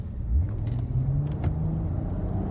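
A car engine revving hard to about 6000 rpm, a rising roaring tone that climbs and holds near, loud and strained, heard from inside the vehicle with no voices over it.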